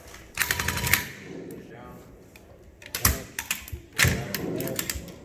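Firearms fired during field training, rapid bursts of sharp repeated shots in several loud clusters separated by short pauses, with voices talking in the background.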